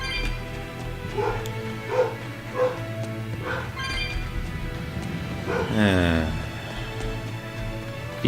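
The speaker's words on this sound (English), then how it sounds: "If you hear it, ignore the barking dog" A dog barks and whimpers in a few short yips against a steady game soundtrack of music and combat effects, with a voiced exclamation near the end, set in a Tales of Berseria battle.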